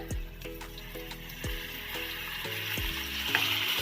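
Ground moong dal thinned with water poured onto a sizzling tempering for aamti brings a busy hiss with repeated stirring scrapes and knocks at a fairly steady rhythm, close and moderately loud.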